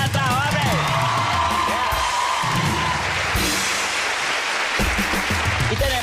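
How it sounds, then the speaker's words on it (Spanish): A studio audience at a television comedy show cheers, whoops and claps, with voices talking and shouting over the crowd noise throughout. "Un aplauso para allá atrás, hombre."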